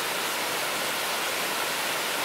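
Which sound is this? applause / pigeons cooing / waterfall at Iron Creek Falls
waterfall at Iron Creek Falls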